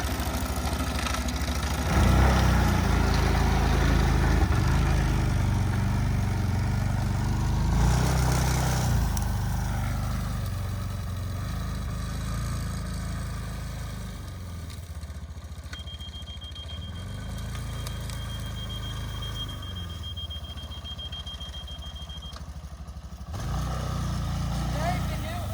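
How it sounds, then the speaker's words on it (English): ATV with a freshly repaired right front tire riding around, its steady engine drone rising and easing as it moves, fairly close throughout with some talk over it. "After repairing the right front ATV tire, my son Christian is testing it out to make sure that it's riding well."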